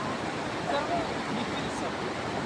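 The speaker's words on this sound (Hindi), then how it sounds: "ये वो पानी है जो ग्लेशियर पिघल के आ रहा है" Fast glacial meltwater runs near Kedarnath in Uttarakhand after rain, a steady broadband rushing roar with no break, close and continuous.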